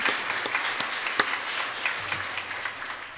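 A church congregation applauds the choir in a brief, moderately quiet burst of scattered clapping, with individual sharp claps standing out over a softer background.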